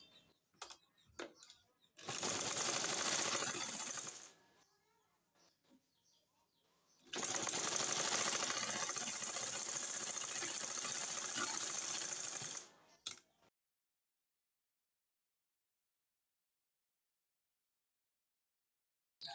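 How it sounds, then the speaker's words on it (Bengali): A sewing machine stitches hijab fabric in two loud, steady whirring runs of a few seconds each, separated by quiet handling clicks and followed by silence. "এখন এটার উপরে এটা রেখে এভাবে সেলাই করে নিব।"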